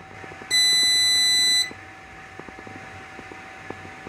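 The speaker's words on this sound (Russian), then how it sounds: "Сработал сигнал." Alarm signal from a distillation controller sounding once, a loud piercing electronic beep lasting just over a second, followed by quiet fan hum and faint clicks, with no voices.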